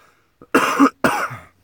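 Two short, harsh coughs from a dog, close by, separated by a brief pause, the second slightly longer and raspier.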